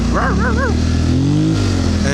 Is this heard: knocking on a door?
no